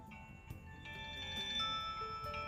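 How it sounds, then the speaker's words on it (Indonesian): Nokia 1200 handset sounding its Nokia Tune ringtone, a faint, tinny sequence of sustained electronic notes stepping through the melody with no talking over it. "Ini yang legend juga, nada Nokia Tone ini ya."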